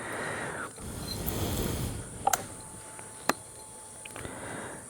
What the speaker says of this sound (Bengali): শুধু ঝিঝি পোকা, সিকারার ডাক